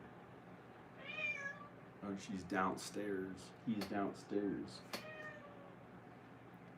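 A cat meows several times in a house during a snowy homecoming, its high wavering calls coming close by, partly mixed with a person talking.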